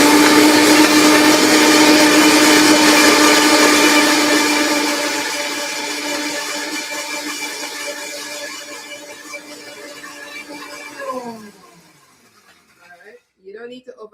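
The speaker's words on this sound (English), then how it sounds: "I will just blend that up" A blender whirs steadily as it purées papaya with vanilla and cinnamon, a loud, constant motor drone that eases in strength midway, then cuts off and leaves a few faint knocks and handling sounds.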